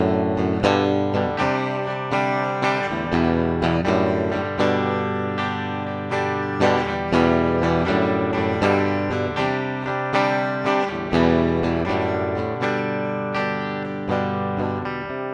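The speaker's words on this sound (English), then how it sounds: "let's take that out and listen just to the DI guitar sound" A dry direct-input electric guitar signal, captured for re-amping with an Orange Omec Teleport, plays steady plucked chords and single notes for about fifteen seconds, clean and undistorted with no talking.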